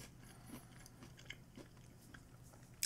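Crunchy nacho cheese Doritos Flavor Shots peanuts in a shell coating are chewed close by, with quiet, scattered bites and crunches over soft background noise, and no talking.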